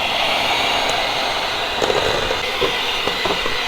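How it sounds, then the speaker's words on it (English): An electric hand mixer beating lemon frosting made with powdered sugar, giving a loud steady whirring drone close by, with occasional clicks and knocks from the beaters against the bowl. "with our hand mixer"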